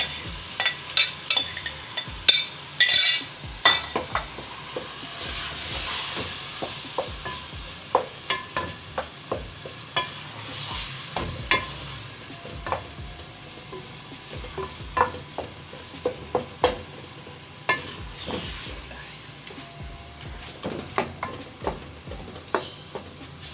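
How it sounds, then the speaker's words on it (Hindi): Eggplant frying in roasted masala while a spoon stirs and scrapes the pan, giving repeated irregular clacks over a soft, steady sizzle, close by and without talk. "मसाला हमारा भून चुका तकरीबन तैयार। अभी इसमें बैंगन डाल देंगे।"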